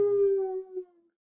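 A voice imitates a wolf howl, one sustained tone that wavers slightly and fades out after about a second.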